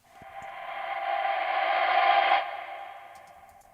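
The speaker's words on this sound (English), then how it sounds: "We got a little vocal effect leading into the first chorus" A reversed, reverb-drenched vocal swell rises gradually from nothing, builds over about two seconds and cuts off abruptly before fading, with no talking over it.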